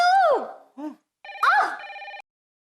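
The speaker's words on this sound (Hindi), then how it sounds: "मेरे फोन में कोई और कॉल कर रहा है" A mobile phone ringing with an incoming call, loud close electronic ringtone bursts with sweeping and steady tonal notes, broken by short silences between them.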